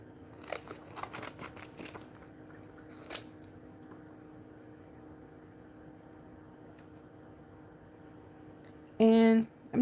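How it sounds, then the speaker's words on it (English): Scissors cut out paper wings for a 3D Pegasus rock-art craft, making a run of quick, light snips early on over a steady low room hum, followed by a brief louder tonal burst near the end. "I'm just going to cut them out like so"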